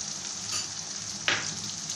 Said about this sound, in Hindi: अब ये लहसुन अदरक भी साथ ही डाल देते हैं